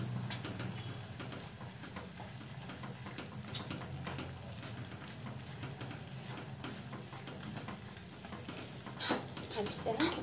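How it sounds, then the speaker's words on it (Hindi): Grated coconut being stirred in a pan for cham cham sizzles softly and steadily for several seconds. Occasional spoon scrapes and clinks against the pan break the steady hiss, with no voices. "अब इसी स्टेज पर हम अपना ये ब्रादा डाल देंगे नारियल का। अच्छे से मिलाएंगे आपस में।"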